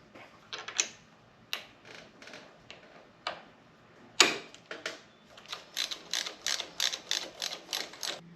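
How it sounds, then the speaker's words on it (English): A screw being worked through the mount of a CIRO 3D frame-mounted motorcycle footboard, giving close metallic clicks and ratcheting ticks in irregular bursts that settle into a steady rhythmic series. "then we'll put the screw back through the top"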